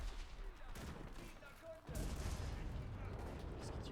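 Gunfire rattles in a World War II shooting game, a faint scattered burst followed by a louder stretch of rapid shots.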